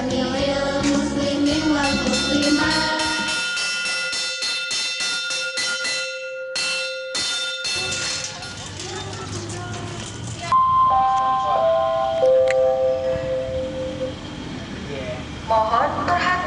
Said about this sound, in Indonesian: Mohon perhatian, bel tanda masuk telah berbunyi.